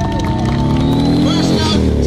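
An outdoor crowd cheers and whoops steadily for the Golden Helmets, the O.P.P. motorcycle team at Blue Mountain, a loud, continuous wash of voices.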